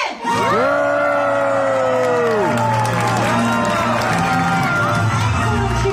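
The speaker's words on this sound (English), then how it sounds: "Excellent cheering, Team Noah." An animal show audience cheers loudly for Noah the dog, a dense sustained roar of shouting children and adults with whoops, continuous and close for the whole stretch.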